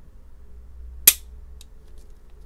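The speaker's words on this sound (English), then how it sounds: "That trigger pull feels really good." A single sharp metallic snap of a dry-fired Browning Model 1971 .380 ACP pistol, made in Belgium, sounds once, close and crisp against a quiet background, followed by a faint click.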